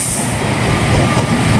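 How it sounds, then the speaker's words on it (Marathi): The Jan Shatabdi Express rushes past close by on a monsoon evening, a loud, steady roar of rumbling wheels and rattling coaches filling the whole short stretch without pause. "आता जनशताब्दी क्रॉस करून गेलेत"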